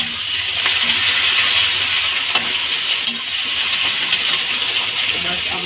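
Onion fries with cumin in a pan, a steady close sizzle with occasional light clicks of a spoon stirring against the metal.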